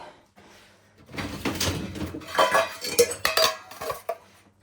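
Metal cutlery clinks and rattles as it is handled, with several sharp clatters of utensils knocking together close by, no talking.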